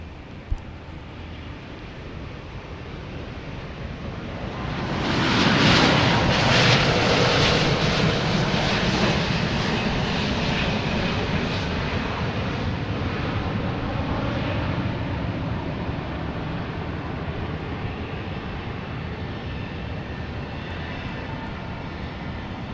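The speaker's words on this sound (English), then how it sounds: "We actually have a Delta, an A330-900 coming in from Amsterdam, coming right over my left shoulder here in 1 second." A Delta Airbus A330-900 arriving from Amsterdam passes low overhead while landing at Boston Logan Airport, its engine roar swelling sharply, peaking close and loud, then fading slowly into a lingering distant rumble.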